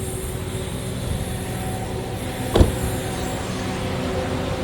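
Air conditioning blows inside a car being checked for weak airflow, a steady broadband rushing hiss with an engine hum beneath and one brief knock partway through.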